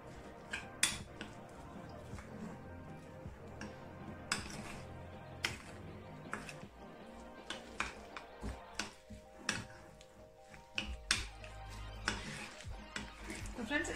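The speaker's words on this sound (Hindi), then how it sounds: "अब थोड़ा थोड़ा पानी ऐड करेंगे, और पकौड़ों जैसा हम बैटर जो है वो रेडी करना है।" A spoon stirs and scrapes semi-thick gram flour (besan) pakora batter in a bowl as water is added bit by bit, giving irregular soft clinks and scraping knocks, fairly quiet against faint background noise.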